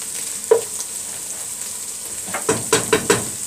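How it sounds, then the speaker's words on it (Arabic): Onion and rice frying and being stirred in a pan: a steady soft sizzle with a few sharper scraping or stirring clicks, one early and a cluster near the end, with no talk. "بتفضلي تقلبي البصله لحد ما تاخد معاكي اللون الصفاري الجميل"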